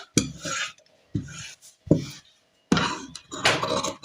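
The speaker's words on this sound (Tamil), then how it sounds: "இப்போ இதை வந்து நம்ம கட் பண்ணி எடுத்துக்கலாம்" Blouse fabric being cut with scissors on a table for a blouse pattern, heard as several close raspy snipping strokes in short bursts with brief pauses between, with no voices.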